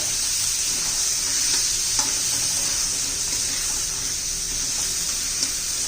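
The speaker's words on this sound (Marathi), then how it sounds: "एक वाटीभर वाटाणे घेतलेत मी ते पण चांगले परतून घेऊया" Peas, about a bowlful, sautéed and stirred in a pan for a spinach and pea bhaji, giving a steady bright sizzle with soft scraping stirs, close and continuous with no talk.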